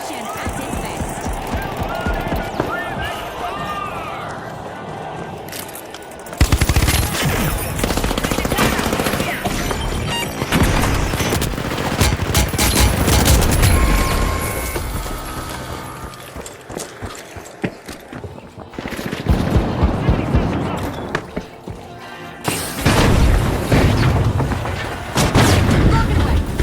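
Minigun fire in the video game The Finals, long sustained roaring bursts of rapid gunfire with explosions mixed in, loud and dense, broken by a few short gaps, with a voice talking underneath.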